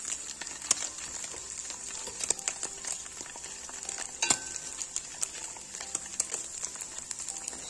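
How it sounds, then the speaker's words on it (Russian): Homemade cheese sizzles and crackles steadily in a hot frying pan, with scattered clicks and scrapes of a fork turning it, no voices. "Хочу поджарить его побольше и посмотреть."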